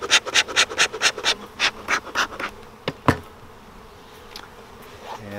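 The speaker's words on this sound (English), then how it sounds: "to get some of those bees moving down there" Honey bees buzz close by under a rapid run of rhythmic rasping puffs from a beekeeping smoker that slow and fade, followed by a couple of soft knocks.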